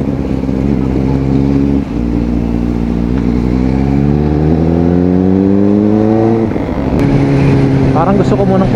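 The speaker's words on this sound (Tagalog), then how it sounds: "Medyo matraffic lang dito." A motorcycle rider's engine runs loud and close through slow traffic, its tone climbing steadily as it accelerates and then dropping back, with the steady noise of surrounding vehicles and a voice talking over it.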